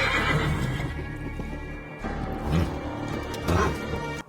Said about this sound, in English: Oh, what a pretty horsey.